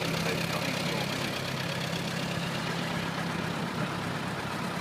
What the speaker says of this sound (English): And this is the 720 John Deere